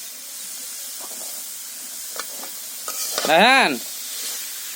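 Pumpkin stir-frying in a pan with spices, salt, turmeric, chili and tomato, giving a steady low sizzle with scattered stirring scrapes and a brief louder hiss midway, while a voice speaks briefly.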